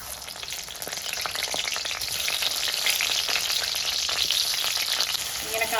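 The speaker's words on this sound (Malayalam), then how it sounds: "ഇനി നമുക്കിതിലേക്ക് നമ്മുടെ തക്കാളിക്ക് ചേർത്ത് കൊടുക്കാം" Tomatoes frying in hot oil for a Kerala-style chutney, a dense, crackling sizzle that swells after the first second and stays loud and close, with no talking.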